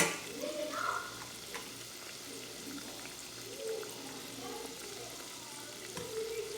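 A homemade donut fries in hot oil with a soft, continuous bubbling sizzle, faint and even throughout, with a few small pops.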